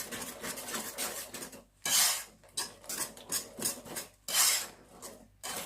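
A spoon stirs bread pudding batter with drained raisins in a bowl, giving repeated scraping, clinking strokes in a steady rhythm with short pauses between bursts, close and fairly quiet, with no talking.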